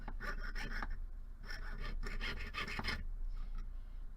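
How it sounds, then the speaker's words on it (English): A jeweler's saw cuts a shape from sheet metal for a stamped hinge bracelet: steady, close rasping strokes in rhythmic back-and-forth bursts over a constant low hum, with no talk. "So now what I can do is I can actually use my saw to cut out this shape."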